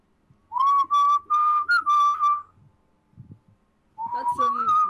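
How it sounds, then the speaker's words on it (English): A person whistles a short melody, clear and close, with a few sustained notes, then a brief gap with soft background noise before the whistling resumes. "That's lovely whistling."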